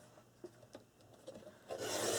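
A paper trimmer blade slides along a scored strip of craft paper, a few short scraping rubs followed by a longer, louder rasping cut at the end, close and quiet.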